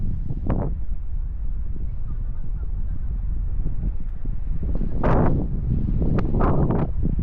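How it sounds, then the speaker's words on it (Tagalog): Steady wind rushes and buffets the microphone throughout on Catanduanes Island, with a few louder gusts and rustling bursts toward the end. "Medyo malakas yung hangin guys"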